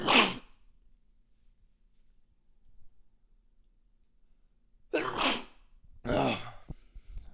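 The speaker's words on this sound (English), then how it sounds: "I do have to sneeze really quick." A person sneezes loudly and up close in a quiet room, one burst at the start, then a pause and two more sneezes or snorts in quick succession near the end.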